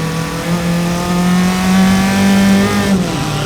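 A single-seater race car with a 1000–1100cc motorcycle-derived engine during an SCCA race at Mid-Ohio, a loud close high-revving drone that holds steady and climbs slightly in pitch, then briefly dips as if changing gear.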